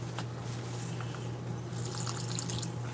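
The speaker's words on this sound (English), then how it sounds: "And just keep adding the water until you get the right consistency." Water being added to onion haystack batter in a bowl while it is mixed, a faint wet dripping and sloshing over steady low background hum.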